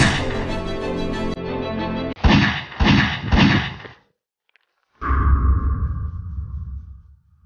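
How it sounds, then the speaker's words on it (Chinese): Staged pistol duel in a drama, heard as loud dramatic sound effects: a sustained swelling tone, three heavy rhythmic blasts, a brief silence, then a booming shot with a ringing tail. "双枪对决，以枪声为号"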